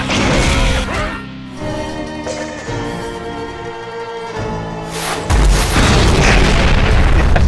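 A space station blows up in a video game, with a loud booming blast that rumbles and decays over several seconds before a second heavy burst hits near the end.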